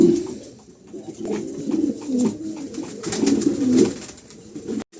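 A pair of pigeons coo nearby in low, throaty rolling calls, overlapping and repeating steadily with soft ambient noise behind.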